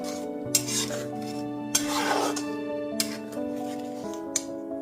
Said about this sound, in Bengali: মশলাটাকে খুব ভালো মতো কষিয়ে নিতে হবে